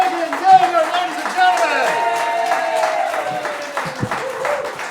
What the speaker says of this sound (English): Give it a round of applause for all the comedians that came out here tonight.